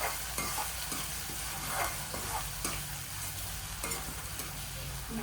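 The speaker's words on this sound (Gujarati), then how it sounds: "હવે આપણે સુધારેલું ટામેટું ઉમેરીશું, જે આપણે એક નંગ લીધું છે, તેને પણ આપણે સારી રીતે મિક્સ કરી દઈશું।" Chopped tomato is stirred into a green chickpea curry in a pan, a steady sizzle running underneath repeated scraping strokes of the spoon, heard close with no talking.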